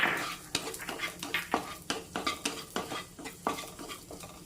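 Cashews and raisins roast in a pan while a utensil stirs them in a steady rhythm of repeated scrapes and clinks over a soft sizzle, close and alone.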